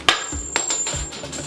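Coins dropping into a toy piggy bank moulded from jelly, two or three close, sharp metallic clinks with a short rattle after each.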